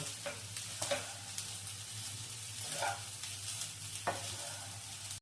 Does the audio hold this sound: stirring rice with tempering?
yes